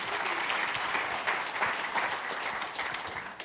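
Keynote audience at an investing summit breaking into steady, dense applause with scattered cheers, filling the room continuously without a break.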